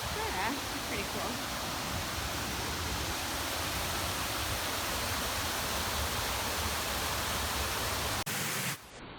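Waterfalls in Algonquin Park give a loud, continuous broadband rush of falling water that holds steady and close throughout, then cuts off abruptly near the end.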